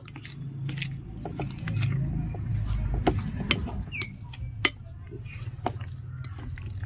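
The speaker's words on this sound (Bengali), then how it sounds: "এখন আমি একটি চামচ দিয়ে খুব ভালো করে মিশিয়ে নেব।" A spoon mixes milk into semolina batter for steamed bhapa pitha, giving soft wet squelches, low sloshing and occasional sharp clinks against the bowl, close up with irregular rhythm.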